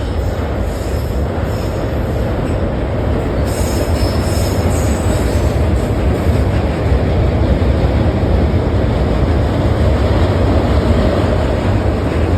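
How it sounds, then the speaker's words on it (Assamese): A train rolls across the Saraighat bridge in a loud, continuous rumble with wheels squealing on the rails, close and unbroken for the whole stretch. "এই সময়ত এখন ট্ৰেইন পাৰ হৈ যাব মোৰ মুখেদি"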